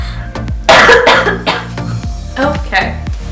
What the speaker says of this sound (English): So sorry, I'm gonna cough for a second.